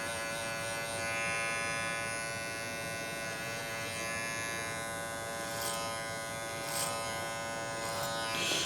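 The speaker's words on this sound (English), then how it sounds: "This is my favorite way of doing clipper over comb and finishing it because we can really get in and detail and soften that line" Electric hair clippers with no guard buzz steadily close by during a clipper-over-comb pass on a short back and sides haircut, with faint comb and snipping ticks on top of the hum.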